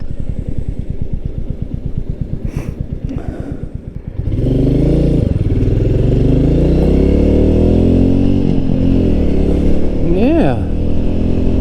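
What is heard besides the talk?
Royal Enfield Meteor 350 motorcycle riding at speed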